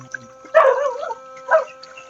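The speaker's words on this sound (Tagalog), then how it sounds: "yung aso ay sigaw ng sigaw" A dog gives two short barks, the first louder and the second following about a second later, close and clear over a quiet background.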